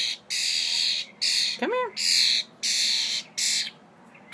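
A pet bird gives loud, repeated harsh squawks in several bursts plus a quick rising chirp while eating off a person's finger, close to the mic, with a person speaking softly between calls.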